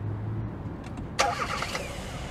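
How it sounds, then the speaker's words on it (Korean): A 2020 Kia Seltos 1.6T 4WD gasoline engine starts by remote start, heard from outside as a sudden crank and catch that settles into a steady idle, moderately close. "시동이 걸렸습니다"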